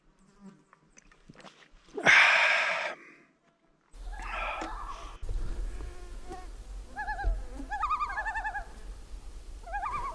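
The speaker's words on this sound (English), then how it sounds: "Loons are here to greet me." Loons call across a lake in the Arctic wilderness, giving wavering, tremolo cries that rise and fall through the second half, fairly distant, over a low steady background rumble and a few other faint bird notes.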